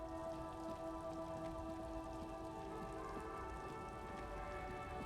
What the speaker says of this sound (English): It's raining, which is nice.